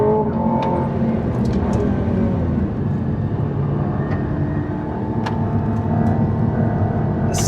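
An Aston Martin Valhalla hybrid supercar driving, its engine a steady loud drone with road and wind noise throughout and a few brief sharp ticks over the top.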